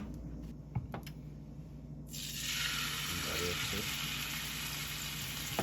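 Salmon hits a hot, lightly greased pan and a loud sizzle bursts in partway through, then holds steady and close, following a few quiet kitchen knocks.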